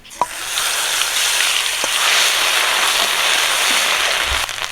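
Onion paste, cumin and bay leaf fry in hot oil for a curry of large pangas fish, giving a loud, steady broadband sizzle that starts with a sharp crackle and keeps up without a break.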